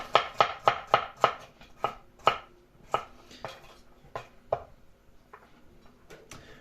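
A knife chops vegetables into small chunks on a board while egg fried rice is being prepared: a fast run of crisp, close chops, then slower, spaced cuts with no talking.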